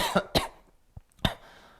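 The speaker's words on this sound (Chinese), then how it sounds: "我今天怎么老咳嗽？" A man coughs several times in quick bursts, two close together, then a short throaty sound and a final cough, fairly quiet and close with silence between.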